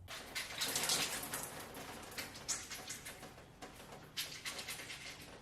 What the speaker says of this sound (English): Then I scrunch the conditioner into my hair.